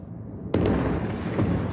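A single loud explosion booms and echoes over Gaza City, abrupt and heavy, followed by a rumbling tail with smaller thuds.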